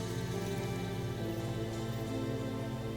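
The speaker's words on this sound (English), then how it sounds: "Signs of rain, eh?" Steady rain falls in the video game Death Stranding, a continuous even hiss of drops on the ground that holds at a constant level throughout, with no voices.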